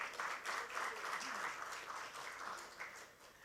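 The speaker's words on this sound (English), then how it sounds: "A huge round of applause, ladies and gentlemen." Audience applause at a corporate finance panel event: a quiet, distant, steady patter of clapping from a seated crowd, continuous and fairly soft throughout.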